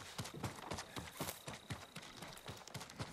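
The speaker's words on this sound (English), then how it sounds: "So you still call a horse, Jin, even if you don't have one" Horse hooves clip-clop steadily and close in the Ghost of Tsushima video game, an even walking rhythm of about three beats a second with no talk over it.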